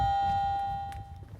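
A baby box door bell lets a single chime ring out and fade within about a second, over a faint low rumble, with no one speaking.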